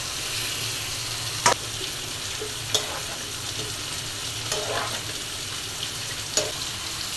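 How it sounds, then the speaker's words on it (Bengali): Pangas fish fries in hot oil with a steady, dense sizzle, broken by a few sharp pops and clicks at irregular moments. No one speaks. "আর পাঙ্গাস মাছটা ভাজা হয়ে গেছে"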